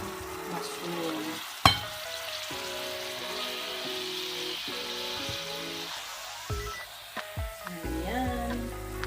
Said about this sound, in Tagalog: Dito na rin natin lutuin yung mushroom.